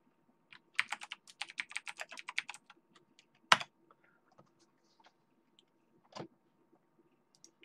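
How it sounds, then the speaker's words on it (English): Typing on a computer keyboard: a dense run of quick, close key clicks for about two seconds, then a single sharp clack and scattered soft taps with quiet gaps, ending in one more muffled knock. "I'm going to use two keyboards here."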